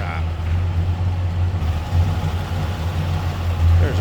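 A 1965 Chevrolet Chevelle Malibu convertible's stock 283 V8 idles with a steady, deep, low rumble close by, its exhaust note holding even throughout with slight swells near the end.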